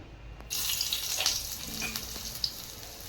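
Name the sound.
tempering with garlic frying in oil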